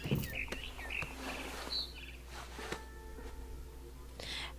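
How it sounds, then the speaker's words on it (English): Faint, sparse barn swallow chirps in the video game What Remains of Edith Finch, over a quiet ambient background, a few short tweets scattered across the moment. "Then I heard chirping outside my window. It was a barn swallow going back to her nest."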